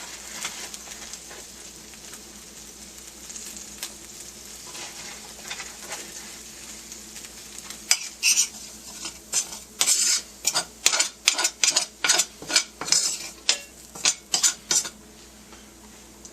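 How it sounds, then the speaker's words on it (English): Couple tablespoons of flour cooking into a roux in a pan for Salisbury steak gravy, a soft steady sizzle at first, then a run of loud rhythmic scraping and clinking strokes as it is stirred briskly. "now I'm going to add a couple tablespoons of flour and make my roux"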